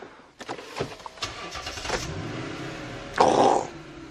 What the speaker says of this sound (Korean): 제가 일단 시동 먼저 바로 걸어보도록 하겠습니다